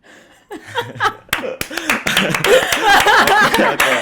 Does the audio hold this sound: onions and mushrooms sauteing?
no